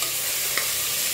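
Tomatoes sautéing in a pan for a drumstick-leaf rice dish, giving a steady soft sizzle with one brief clink of stirring midway, no voices.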